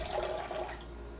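Warm water poured into a mixing bowl for bread dough, a steady splashing pour that runs for most of a second and then trails off into quiet.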